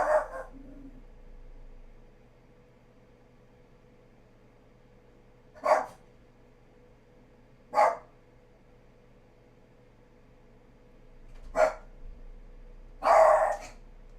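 A house dog barks in single, separated yaps, five sharp barks spaced several seconds apart over a quiet room hum, fairly close and loud, with no talking.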